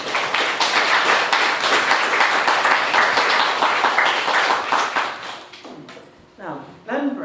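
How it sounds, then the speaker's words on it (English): A live audience at an evening art talk with painter Glenn Brown breaks into a loud, sustained round of applause, dense clapping that fills the room for several seconds before thinning out and fading near the end. "join me in a very warm round of applause for our speakers."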